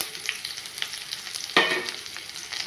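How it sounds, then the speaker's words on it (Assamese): Chopped green chillies fry in hot oil in a pan, giving a soft continuous sizzle with a sudden louder hiss and crackle partway through as the chillies are stirred in close by. "এতিয়া আমি কাটি থোৱা কেঁচা জলকীয়াখিনি দি দিছোঁ।"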